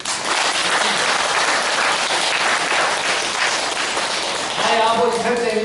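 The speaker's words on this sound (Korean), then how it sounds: "박수 주세요" A crowd at a Buddhist temple gathering claps in a full, continuous round of applause, and a voice starts speaking over it near the end.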